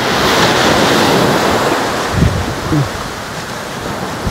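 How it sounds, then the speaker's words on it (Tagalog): Loud, continuous roar of strong ocean surf at a white sand island beach in Cagbalete, with gusting wind buffeting the microphone, steady and close throughout. "Kita nyo naman yung alon. Sobrang lakas na alon."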